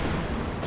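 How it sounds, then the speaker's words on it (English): Mortar fire in the World War II strategy game Company of Heroes 2, a dense, steady burst of booming artillery that fills the brief moment, with a sharp lift near the end. "Mortars."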